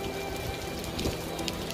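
Light drizzle patters softly and steadily, a faint, even hiss of small raindrops heard from a boat trip in Bermuda, with no talking.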